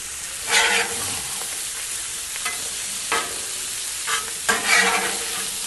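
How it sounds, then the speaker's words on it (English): Butter sizzles steadily on a Blackstone griddle while pork chops are basted, with a few scraping strokes of a spatula cutting through the frying hiss. "taking that butter up off the grill with the seasoning and basting that right on top of the chops"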